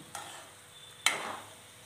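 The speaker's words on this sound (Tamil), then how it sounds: "எண்ணெய் கொஞ்சம் ஊற்றிக்கலாம்" Oil hitting a hot pan while cooking a mushroom and green chili fry: a soft initial hiss, then a sharper sizzling burst that flares and slowly fades, quiet and close.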